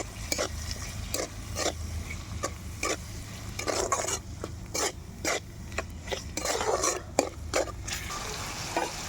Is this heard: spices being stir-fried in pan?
yes